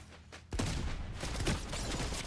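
Gunfire in a Fortnite match bursts in after a quiet half second and continues as dense, loud, overlapping shots, sounding close and sustained.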